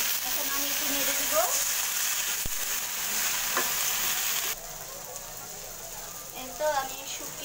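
Onions and coriander leaves fried with dried fish in oil are stirred in a pan, a steady sizzle broken by scraping strokes of the spoon, with a voice talking over it.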